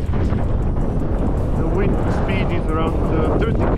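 Strong wind at 3000 m altitude on a ski slope in Les 3 Vallées, roaring continuously and loudly across the microphone with dense buffeting. A voice speaks faintly beneath it.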